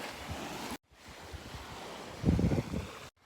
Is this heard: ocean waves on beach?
yes